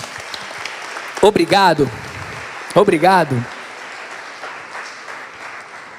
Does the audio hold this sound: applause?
yes